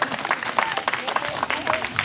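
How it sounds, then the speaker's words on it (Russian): Audience applause at a student concert opening, a steady crowd clapping at moderate level with a faint voice underneath. "Я попрошу вас поддержать ребят громкими аплодисментами."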